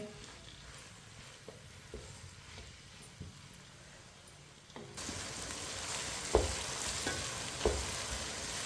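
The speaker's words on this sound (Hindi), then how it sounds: "प्याज को हल्का सा ब्राउन कर लेंगे इसी तरह चम्मच चलाते हुए" Onions frying over medium heat while a spoon stirs them to brown, quiet at first and then a louder, denser sizzle with sharp scraping clicks of the spoon against the pan; close, no talk.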